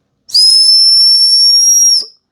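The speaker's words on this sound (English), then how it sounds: "There's your fire starter / whistle. Let's try this out real quick." Whistle on a Mossy Oak 27 in 1 multi tool fire starter, one loud, piercing, steady high-pitched blast of about a second and a half, close and alone.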